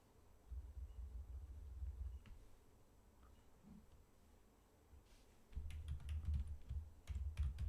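Typing on a computer keyboard comes in two quiet, close bursts of rapid key clicks separated by a pause, with faint isolated taps between.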